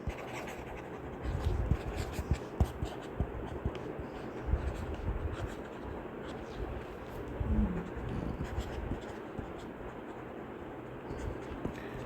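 A pen scratches steadily across paper while someone writes out the volume formula for a triangular pyramid, a continuous close scribbling texture with small irregular strokes and no talk.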